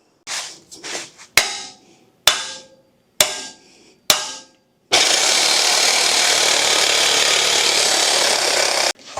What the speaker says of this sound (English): I'll grind down these sharp areas.